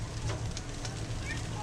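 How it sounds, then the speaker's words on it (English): Steady rain falling outdoors, a soft continuous patter with a low hum beneath and a faint bird call near the end. "You want to sit in Papa's lap and watch the rain come in?"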